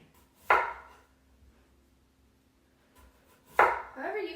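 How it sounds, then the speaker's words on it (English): Two sharp knife chops through large potatoes, cutting them into quarters on a cutting board, each crisp thunk standing alone about three seconds apart in a quiet kitchen. "I'm going to chop them into some bigger chunks."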